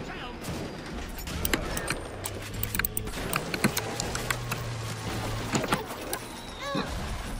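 Rapid bursts of gunfire in Bioshock, set in flooded apartments, crackle sharply over a rumbling game backdrop, several quick shots clustered through the middle and end with talk present.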